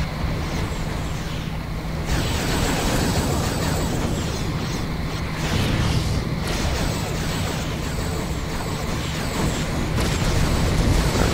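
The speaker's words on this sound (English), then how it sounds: "I just saw a bunch of little explosions" Fleet ships exploding in the Star Trek Armada 3 space strategy game, a dense continuous rumble of booms and blasts that rises in bursts, loud and unbroken over a low steady hum, with no talking.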